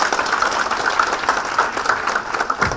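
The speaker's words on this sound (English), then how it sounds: "So let's give them a round of applause again." An audience claps together in a sustained round of applause, a dense continuous patter that holds loud and even throughout, with no voices standing out.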